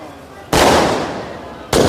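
Loud fireworks and fountain firecrackers erupt in a sustained, crackling hiss that slowly fades, then a second burst bursts in near the end, close and dense, at Gurdwara Sri Fatehgarh Sahib during a Guru Granth Sahib Prakash Purab celebration.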